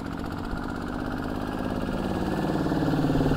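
Kubota ZT Plus 180 18-horsepower tractor engine running steadily in third gear, a continuous close chugging drone that swells slightly toward the end.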